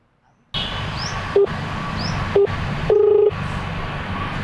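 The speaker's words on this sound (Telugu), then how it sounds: "రింగ్ అవుతాం." Short electronic beeps sound a few times over a steady hiss, followed by a longer tone, like a phone connecting and ringing.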